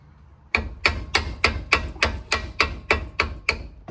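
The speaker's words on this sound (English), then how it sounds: "You kind of start hitting it with a hammer." A hammer repeatedly strikes a rusted strut bolt on a 2007–2011 Toyota Camry during a shock replacement, about a dozen sharp metallic blows in an even, quick rhythm, close and loud.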